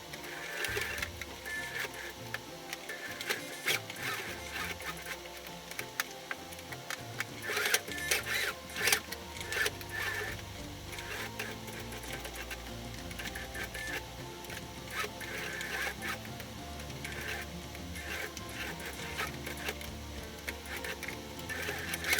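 A sewing machine stitches around the fabric wing piece of a small bird keychain, its rapid mechanical needle clatter running steadily and close for the whole stretch, with short pauses and bursts in speed.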